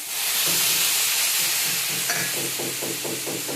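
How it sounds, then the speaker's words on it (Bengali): Boiled potatoes frying in a pan, a loud steady hiss and sizzle with a series of rhythmic scraping stirs toward the end. "একটুখানি ফ্রাই হয়ে যাক"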